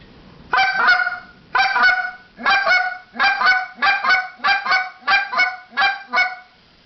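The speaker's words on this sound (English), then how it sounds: "can do high to low, which is a little bit harder." About ten loud goose-call double clucks in a row, each pair dropping from a high note to a lower one, quickening slightly toward the end.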